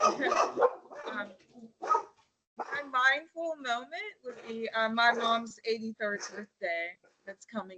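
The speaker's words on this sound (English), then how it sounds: "I'm sorry about the dogs in advance." Dogs bark repeatedly nearby in the background, stirred up by a gardener outside, with sharp yips mixed in under someone speaking throughout.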